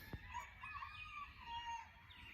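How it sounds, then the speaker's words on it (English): Roosters crow in the distance, drawn-out calls overlapping against a steady outdoor background hum. "Roosters are crowing."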